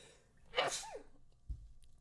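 A single sharp sneeze bursts out, followed by a short low thump, in an otherwise quiet setting.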